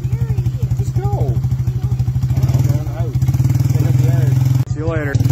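A 1986 Yamaha YTM225DR three-wheeler runs at a steady, close, loud chugging idle with a rapid regular pulse. Voices talk over it, and the engine briefly dips near the end.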